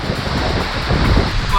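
Thi Lo Su waterfall in Thailand, standing right at one of its cascades: a loud, dense, unbroken roar of pouring water, close up and buffeted by wind on the microphone.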